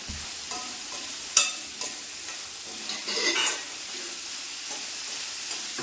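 Sliced onions with salt being stirred and sautéed in hot oil for a chickpea curry, a soft continuous sizzle broken by a few sharp spoon scrapes and clinks against the pan.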